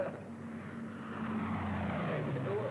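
A propeller plane droning past, a steady low engine roar that grows slightly louder over a few seconds, heard at a moderate distance.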